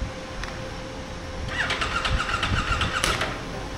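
A 2023 CFMOTO Ibex 800T motorcycle engine starts over a steady background hum. The cranking and catch come about halfway through, then a running rumble continues with some clicking.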